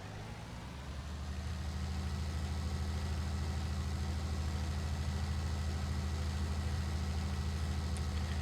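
A tractor engine in Farming Simulator 19 idles and drones steadily, low and heavy, rising slightly in level after the first second and holding a constant rumble throughout with no talk.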